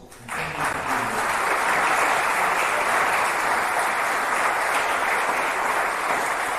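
A lecture audience breaks into warm applause after the speakers finish, rising quickly to a dense, loud, sustained clatter of many hands that holds steady for several seconds.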